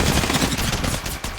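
Rapid gunfire from the video game Apex Legends, a dense, loud burst of shots packed tightly together with almost no gaps.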